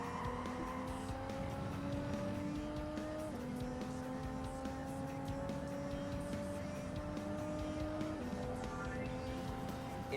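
A Toyota Supra race car in Gran Turismo 7 drones through a steady engine note that drops in pitch as it brakes into a corner, with faint tire squeal and a later gear change.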